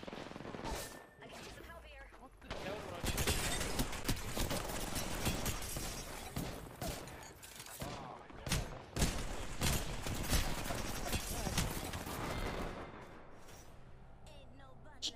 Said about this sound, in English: Don't shoot my dead body